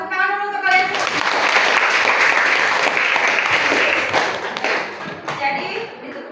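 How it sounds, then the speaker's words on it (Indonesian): A classroom of students claps together for a few seconds, a dense burst of applause that swells quickly and then tapers off, with a teacher's voice speaking before and after. "tepuk tangan dulu untuk kalian semua"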